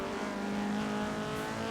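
A Renault car's engine in Forza Horizon 3 drones at a steady, buzzy pitch with a constant harmonic hum, running evenly without revving up or down for under two seconds.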